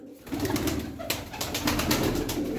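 Gittiler tumbler pigeons coo softly inside a loft, a low murmuring throb running throughout with light fluttering and shuffling noises on top, fairly close.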